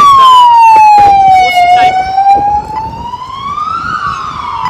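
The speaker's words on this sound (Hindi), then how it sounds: "एम्बुलेंस थी" An ambulance siren wails loud and close on a street in Australia, one long sweeping tone that dips and rises again as the vehicle passes by.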